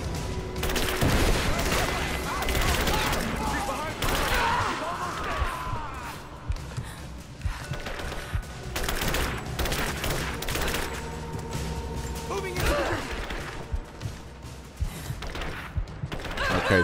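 Video game gunfire from Rise of the Tomb Raider: dense, loud bursts of shots and crashes repeat throughout, with voices talking over the action.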